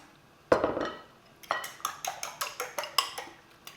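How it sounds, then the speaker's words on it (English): A bowl gets a sharp knock, then a fork whisks two eggs, beating rapidly against the bowl's sides in a steady clinking rhythm, close and clear. "I'm going to whisk these two eggs together before I add them to the filling."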